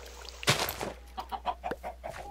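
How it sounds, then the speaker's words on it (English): Minecraft chickens cluck in short, bright bursts, a cluster of quick clucks coming close and fairly loud in the game. "Okay, chickens."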